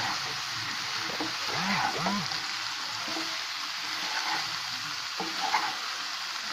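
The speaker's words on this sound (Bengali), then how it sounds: "আমি তাহলে সুন্দর করে সবজিগুলিকে ডিমের সাথে পেঁয়াজের সাথে মিশিয়ে নিচ্ছি।" Vegetables, egg and onion frying in a pan with a broad steady sizzle, while occasional scrapes and knocks of stirring rise above it.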